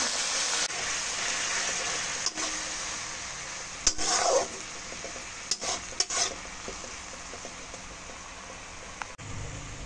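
Turmeric and chili spice paste sautéing and being stirred with a splash of water for a Bengali katla fish head chhechra, a steady close sizzle broken by scraping stirs of the spatula against the pan.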